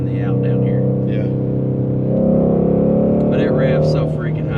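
A Shelby GT350 Mustang engine revving high on a mountain road, a loud, close, continuous engine drone whose pitch climbs and steps up partway through, with a voice talking over it near the start and the end.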